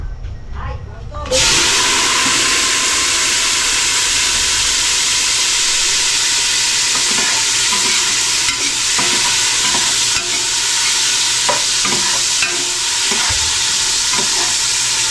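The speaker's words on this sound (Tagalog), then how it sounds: "At ipiprito ko muna yung bell pepper." Loud, steady sizzling of bell pepper frying in a hot pan, with occasional stirring clatter throughout.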